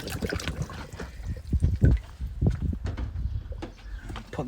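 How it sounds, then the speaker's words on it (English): Water is poured into an Intex spa pump, splashing and gurgling in irregular bursts close by, with a few soft knocks in between. "Should fill the pump with water."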